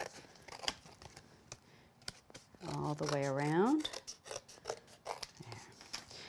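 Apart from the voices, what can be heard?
scissors trimming card stock around a die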